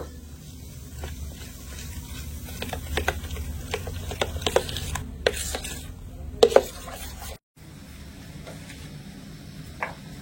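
A spoon stirs Eno fruit salt into a batter in a bowl, giving a steady run of soft, wet scraping taps close by, fairly loud and rhythmic, with a brief gap near the end.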